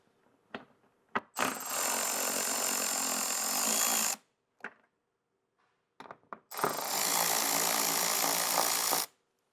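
Two long bursts of a ratchet cranking out 10mm bolts on the front bumper of a 2024 Toyota Tacoma, loud and close, set off by a few sharp clicks and short pauses.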